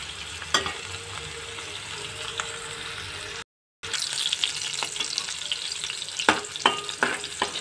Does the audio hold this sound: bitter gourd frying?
yes